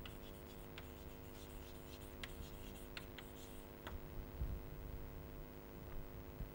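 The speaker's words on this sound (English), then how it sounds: "We will write the full sentence." Pen or chalk writing out a sentence by hand during a logic lecture, heard as faint scratchy strokes in short bursts over a steady low electrical hum.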